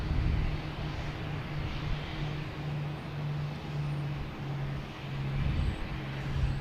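A JetBlue airliner comes in to land at Boston Logan, its engines a steady, loud roar with a low droning hum that swells and eases throughout, heard alone without voices.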